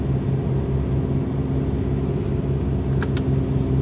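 A truck engine idles steadily with a low continuous rumble and hum, close and even throughout, with a couple of brief faint clicks near the end.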